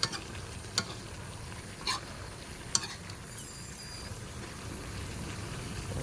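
Tomatoes fry in a pan over sautéed garlic, a low, quiet sizzle with a few sharp clicks of a spatula against the pan spaced across the clip.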